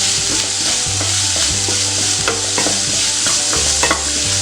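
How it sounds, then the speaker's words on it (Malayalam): Sautéed onions with chili powder and turmeric being stirred in a pan for kothu chapathi, a steady close sizzle with repeated scraping strokes of the spoon and no voices. "ഒന്ന് ഇളക്കി കൊടുക്കാം."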